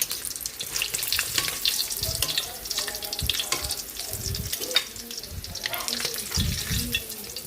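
Milkfish (bangus) frying in hot oil, a continuous crackling sizzle with scattered pops and spatters, close and fairly loud, with faint background noise but no clear talk.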